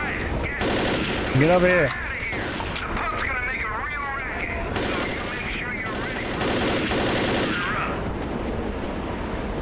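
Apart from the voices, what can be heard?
gunfire in the video game Left 4 Dead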